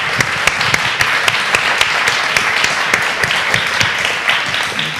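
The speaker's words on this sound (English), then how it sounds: "I would actually like to give another round of applause for all of you" A conference audience at an unconference session applauds with a lively, steady patter of many hands. A few sharper individual claps stand out in the dense sound.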